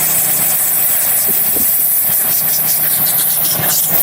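Steam cleaner with a soap detergent injector working on car carpet to lift gum, giving a steady loud hiss over a low motor hum throughout, with no talking.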